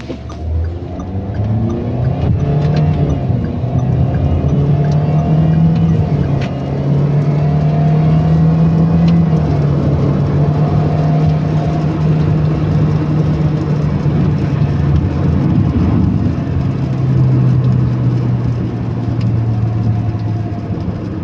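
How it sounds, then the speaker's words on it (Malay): A Perodua Alza in first gear, held at full throttle on launch control, gives a loud, sustained engine drone that stays pinned at a steady rpm with slight wavering pitch, close and continuous with no talking. "Kita tekan minyak penuh. Tengok traction control, launch control kita."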